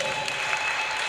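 Church congregation clapping together during a service, a steady dense wash of applause that fills the whole short moment without pause.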